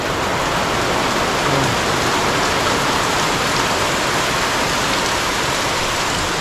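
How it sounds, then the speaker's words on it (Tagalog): Heavy rain pours down steadily on a rural home in Kalaka, a dense, constant roar of water that stays loud and even throughout, with no voices heard. "biglang bumuhos na naman po yung ulan"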